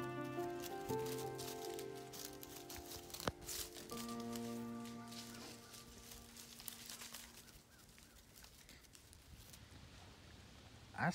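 Rain patters steadily outdoors near a chicken coop, a soft continuous hiss of drops on surfaces, with faint tonal background sounds in the first half and the patter thinning toward the end.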